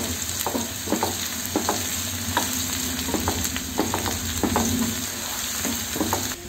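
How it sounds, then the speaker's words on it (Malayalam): Curry leaves and onion fry in a hot pan, giving a steady loud sizzle with repeated scraping stirs of a spoon against the metal, no voices. "ഇതിലേക്ക് നമുക്ക് വേപ്പില 2 ദണ്ടിടുന്നുണ്ട്. ഉള്ളി ജസ്റ്റ് ഒന്ന് മൂത്തു."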